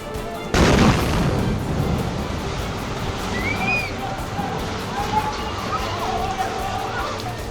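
Heavy bombardment in the Gaza Strip, with a sudden loud boom followed by a long rumbling roar and lingering distant crackle, plus faint whistling tones.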